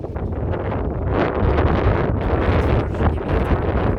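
Strong autumn wind on the Aegean coast at Gömeç buffets the microphone in steady, loud gusts, a broad roaring rush that swells and eases slightly throughout with no voices.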